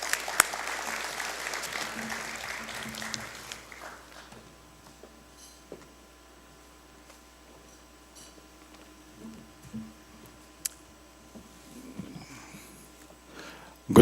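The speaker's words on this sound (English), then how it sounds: "Give him a warm round of applause." Conference attendees at a local content event give a brief burst of applause lasting a few seconds, then it fades into a quiet room with occasional small noises and thumps.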